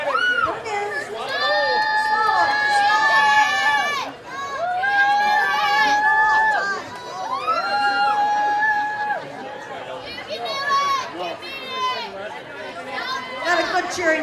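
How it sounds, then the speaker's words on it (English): At a 2014 pepper festival eating contest, an outdoor crowd cheers and shouts encouragement, loud overlapping voices including children rising and falling in waves with brief lulls between. "Cheering crowd down here."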